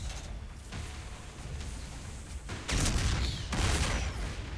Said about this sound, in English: My tanks were shooting faster than that.